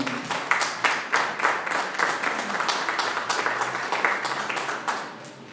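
A church congregation applauds in a sustained burst of many hands clapping, dense and fairly close, with distinct claps standing out before it thins near the end.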